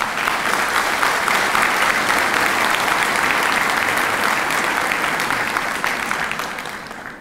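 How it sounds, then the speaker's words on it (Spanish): A large audience at a Public Accountant's Day ceremony claps continuously in loud, steady applause that fades slightly at the very end. "para quienes pido un fuerte aplauso"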